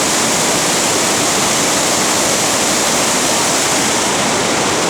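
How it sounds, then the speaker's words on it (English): Rushing water from the swollen Manitou River in Minnesota pours past at close range, a constant, heavy roar that fills every moment without any break or speech. "Ooh, the river's really going."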